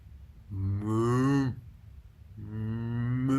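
A person imitates a cow with two long, drawn-out moos, each rising and then falling in a low, nasal voice, separated by a short pause.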